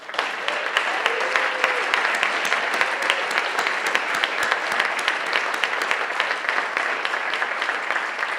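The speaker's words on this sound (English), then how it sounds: "milking more applause from us by starting from all the way over there" Sustained audience applause for a speaker at a conference on inclusionary leadership, steady and dense throughout with a few faint voices underneath.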